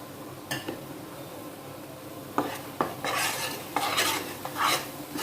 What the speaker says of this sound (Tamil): அடுத்தது கோதுமை போட்டுடலாம்.